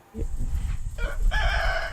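A rooster crows once nearby on a country farm, a loud drawn-out call rising over a low rumbling background.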